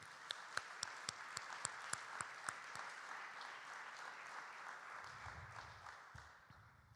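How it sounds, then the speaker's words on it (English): Applause for Boy Scout Troop 293 after presenting the colors at a city address, a steady wash of clapping with sharp individual claps standing out early, fading toward the end with a low murmur of voices. "let's give a big round of applause to Boy Scout Troop 293 for doing the colors today"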